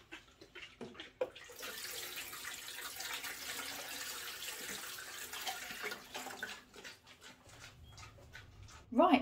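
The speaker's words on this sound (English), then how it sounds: "Now I'm going to fill the tank." Water running steadily from a tap into a hydroponic tank being filled with 5 litres, a broad hiss lasting several seconds, with a dog whimpering and brief knocks before and after.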